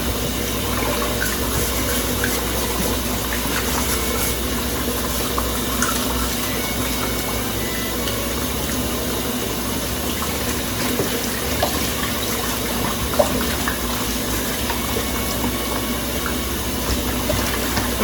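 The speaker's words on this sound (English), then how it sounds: "washing my fish, stockfish, any other thing that I want to wash" Running tap water pours steadily for stockfish being washed in a kitchen, a constant close splashing hiss with no talk and only small variations throughout.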